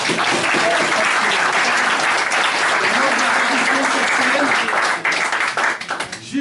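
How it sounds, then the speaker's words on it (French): Theatre audience gives dense, loud applause for a journalist on stage at a tourism-journalists event, steady and close for most of the clip before thinning into scattered claps at the end. "Mathieu, on peut l'applaudir."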